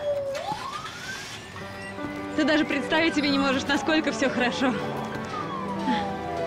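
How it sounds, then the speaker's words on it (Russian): A police siren wails as it rises and falls, close and fairly loud in a Russian detective melodrama, while someone talks over it. "Почему сирены гудят?"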